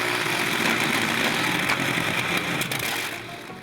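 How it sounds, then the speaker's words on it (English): A Liberty engine drives the Liberty II boat on Coney Lake, roaring loud and steady with a rough, crackling texture before easing slightly at the end. "The Liberty engine,"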